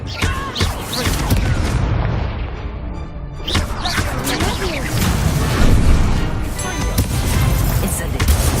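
Confringo blast spells from the game Hogwarts Legacy erupt as repeated loud booming explosions with crackling debris, continuous and dense throughout, while a voice shouts spell names over the din.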